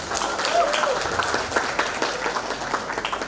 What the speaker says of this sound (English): Give applause for Mr. Nunna